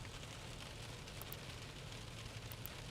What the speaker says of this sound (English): Getting a little bit of a downpour,